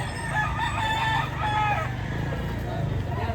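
A Gilmore-bloodline gamefowl rooster crows close by in a long, strained call, with people talking faintly in the background.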